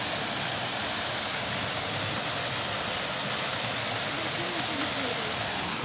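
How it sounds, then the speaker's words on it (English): Waterfall on the grounds of a Cistercian abbey landscape, a steady broadband rush of falling water filling the scene, constant and fairly close, with no clear voices over it. "We'll have a look at the waterfall, eh?"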